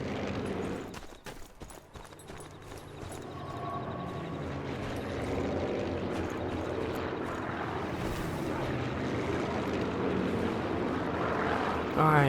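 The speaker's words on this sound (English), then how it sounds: "Got a plane going overhead" A plane drones overhead in the Sniper Elite 4 war game as a sustained broad rumble that builds slowly and holds. A burst of sharp clattering comes early, before the drone takes over.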